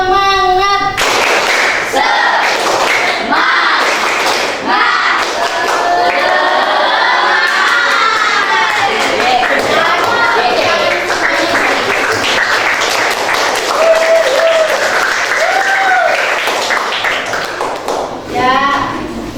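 A school class claps out a rhythmic spirit clap in tight unison, loud and close, patterned bursts of hand claps mixed with children's voices and a teacher talking.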